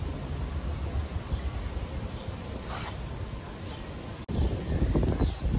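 Wind buffets an iPhone 12 microphone with a low, rumbling roar throughout on an overcast day, gusting louder near the end, with faint voice-like sounds in the background.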